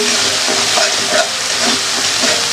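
Spice paste sizzles and crackles in a hot pan while being stirred, a dense, close, continuous frying hiss with soft scraping accents, no voices.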